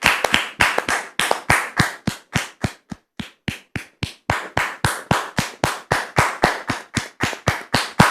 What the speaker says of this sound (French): nous allons recevoir maintenant Dame Rose, sous vos applaudissements